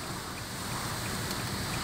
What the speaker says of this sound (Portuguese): Olha o barulho do vento.